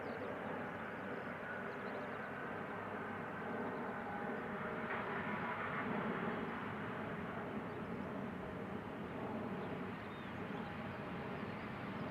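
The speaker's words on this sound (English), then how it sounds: "we see an E2 Embraer 195 about to touch down" Low, steady roar of an Embraer 195 E2 airliner, with its large engines, about to touch down at Amsterdam Schiphol Airport, heard from a distance, fairly quiet and unchanging over several seconds.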